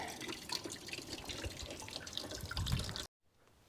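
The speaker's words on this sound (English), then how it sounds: "That gets all the water out." Water drains out of a 2001 Sea-Doo RXDI watercraft engine during winterizing, running and splashing in a continuous, fairly quiet stream, then cutting off abruptly into near silence.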